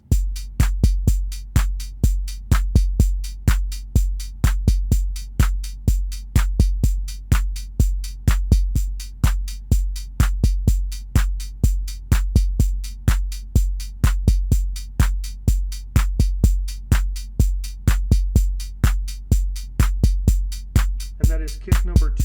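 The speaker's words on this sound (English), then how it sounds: "here is the Drumbrute." Arturia Drumbrute drum machine kick drum hammering out a steady, fast sequence of punchy, deep thumps with bright clicky attacks, loud and close, with no voice.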